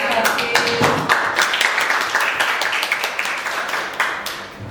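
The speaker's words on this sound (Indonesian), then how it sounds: "Oke, tepuk tangan" An audience claps during a school language-month podcast event, a lively burst of many hands with distinct close slaps at first that thins and fades toward the end, with no talking over it.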